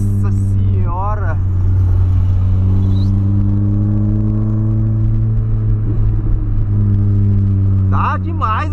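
A Volkswagen Polo with a sport exhaust idles with a deep, steady rumble and revs in short bursts, its exhaust popping and crackling close by, while people talk over it at the start and end.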